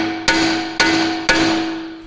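Three sharp metallic hammer strikes on a Land Rover LR4 steering knuckle, evenly spaced about half a second apart, each ringing with a sustained tone that slowly decays, close and loud with no talking.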